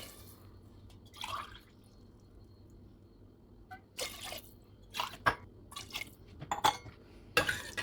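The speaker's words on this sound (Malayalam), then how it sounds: "3 ഗ്ലാസ് വെള്ളം ഒഴിച്ചിട്ടുണ്ട്." Water is poured into a pressure cooker for ghee rice in a few short splashing bursts, close and fairly quiet, with drips between pours.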